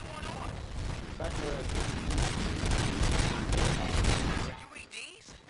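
Dense volley of gunfire in the video game Robocop Rogue City, sustained rapid shots and booms filling the scene before cutting off abruptly near the end.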